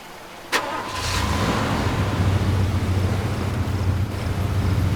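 A car engine in the video game Far Cry 2 starts with a sharp click and then roars into a loud, steady throttle drone with a low hum underneath, running continuously and close with no talking.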